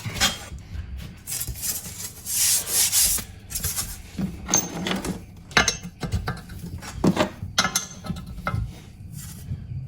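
Scribing a port outline on a Mazda 13B rotary engine housing with a template, a series of close scratchy rubbing strokes and light metallic clinks in uneven bursts.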